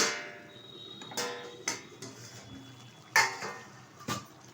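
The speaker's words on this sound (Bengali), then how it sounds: "ঢাকনাটা তুলে দিচ্ছি।" Metal lid lifted off a cooking pot of hilsa fish with water lily stems, giving a few light clanks and scrapes, sharp metallic knocks spaced apart in a quiet kitchen.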